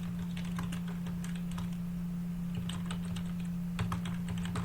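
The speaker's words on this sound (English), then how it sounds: "if you're typing, you don't stop typing" Fingers type continuously on a computer keyboard, giving quick, light key clicks in uneven bursts over a constant low electrical hum, close and fairly quiet, with no speech.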